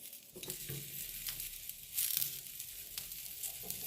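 Tomatoes roast in a hot pan for salsa, giving a steady close sizzle and crackle with a few louder pops and spits, heard alone without voices.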